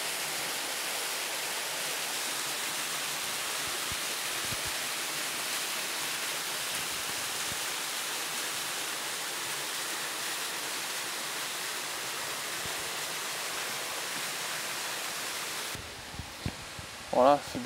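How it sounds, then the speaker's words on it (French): Steady broadband rush of a waterfall beside a hiking trail near Barjols and Pontevès, loud and unbroken for most of the stretch before dropping away into quieter ambience with a few brief knocks at the end. "c'est devant cette belle cascade qu'on se dit au revoir"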